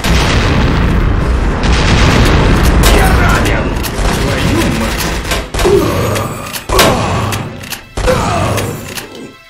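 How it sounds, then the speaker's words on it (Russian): A grenade goes off in a video game, with heavy booms and thuds cutting through dense, loud battle noise. Several sharp blasts land near the end, and voices are heard around them. "Осторожно, граната! Черт, граната!"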